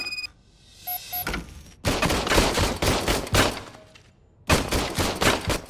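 Old police service gun fired in the RoboCop Rogue City video game: two loud bursts of rapid shots separated by a brief pause, preceded by small mechanical clicks, close and sharp.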